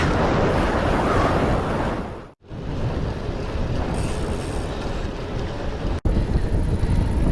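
Strong headwind buffets the microphone while cycling through a forest area, a loud, continuous roaring rumble with brief dropouts.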